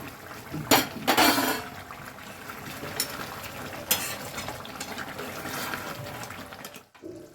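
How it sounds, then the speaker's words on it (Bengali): A pot lid lifted off a simmering chicken curry with potatoes, followed by stirring: a sharp metallic clank near the start, then wet scraping and bubbling sounds of a spoon moving through the thick gravy, close and fairly quiet. "এবারে একবার ঢাকনাটা খুলে নেড়ে নেব"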